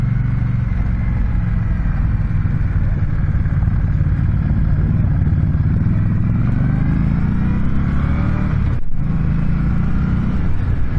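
A 2021 Indian Scout Bobber motorcycle being ridden, its engine drone steady and loud with wind rush, pitch shifting between gears and a brief dip near the end as it shifts.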